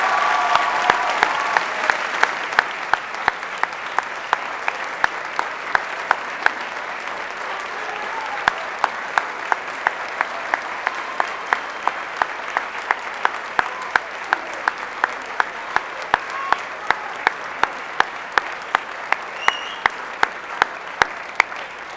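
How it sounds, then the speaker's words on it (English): Sustained applause from an audience at a high school senior academic awards assembly honoring graduates entering military service, a steady dense patter of many hands clapping continuously with sharp individual claps standing out, moderately near. "Let's give them a round of applause and appreciation."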